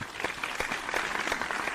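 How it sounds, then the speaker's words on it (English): A live audience on a comedy podcast set breaks into steady applause, dense and continuous, with scattered louder claps and no speech over it. "So let's give a round of applause"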